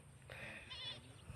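A single wavering goat bleat, faint and somewhat distant, lasting under a second.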